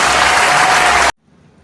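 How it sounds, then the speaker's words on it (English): A classroom group bursts into loud, dense applause for about a second, then it stops abruptly, leaving near silence. "Give a round of applause."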